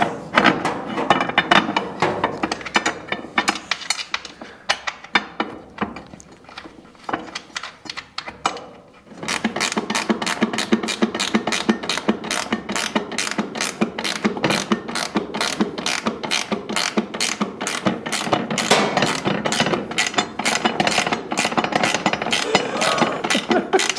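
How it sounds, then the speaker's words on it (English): A ratchet clicks rapidly and steadily, close by, as a wrench tightens very long bolts on a custom seat bracket rail in a Honda Type R mini supercar project. The clicking is irregular at first, then becomes an even run of clicks after a short pause. "Taking forever to tighten them up because the bolts are so long."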